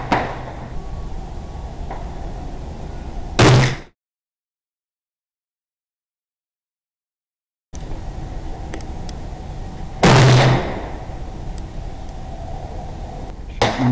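.308 Winchester rifle fired at a 25-yard target: two sharp, loud shots about six seconds apart, each a sudden blast over a steady outdoor background.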